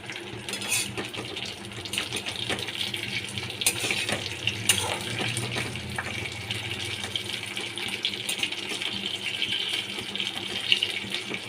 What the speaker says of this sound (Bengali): হলুদ মাখিয়ে ইলিশ মাছের মাথাগুলো আমি ভেজে নিচ্ছি